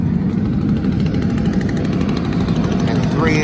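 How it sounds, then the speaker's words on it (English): A leaf blower sits in front of the 3-inch hole of a 55-gallon drum fire barrel, forcing air into the fire with a steady, loud roaring rush that holds unbroken throughout. "a leaf blower sitting in front of it, and it blows air and it keeps air in the fire"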